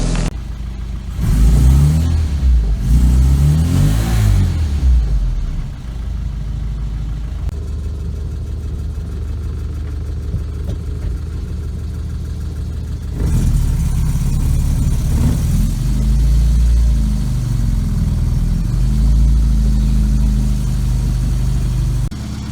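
A car engine revs up loudly after a little choke, then settles to a steady running drone before rising again as the car sets off on its first drive toward an MOT test, with no talking.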